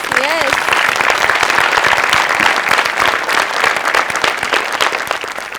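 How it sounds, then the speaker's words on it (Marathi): Studio audience at a Marathi comedy show bursting into steady, dense applause for the junior performers, loud and close throughout with light voices mixed in. "आज आपण ज्युनियर्ससाठी एकदा टाळ्या वाजवूया"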